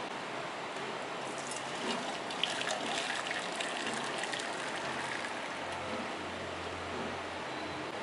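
Melted jaggery syrup trickles through a strainer in a soft, steady, faint liquid patter that runs unbroken throughout.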